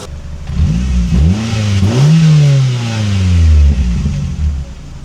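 A Ford Transit Connect camper van, just repaired after a coolant leak, idles and is revved several times. The engine pitch rises and falls in smooth sweeps, loud and close.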